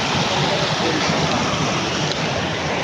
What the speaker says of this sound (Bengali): পানির কি স্রোত